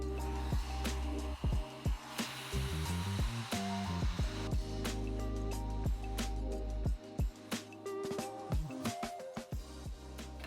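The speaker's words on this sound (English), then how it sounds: "I still need to do the blast of cold air though, so I'm gonna turn this on, hit the button for the cold air." A handheld hair dryer switched to its cold-shot setting blows a steady, close, loud whoosh of air throughout, with brief dips and bumps as it moves around hair.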